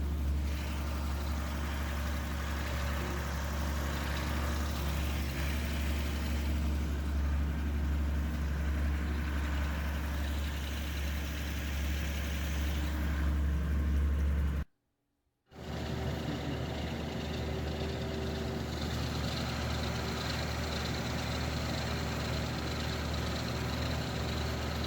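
A tractor engine runs steadily outdoors near a freshwater creek, a low, constant rumbling drone that cuts out for a moment partway through before resuming at the same level.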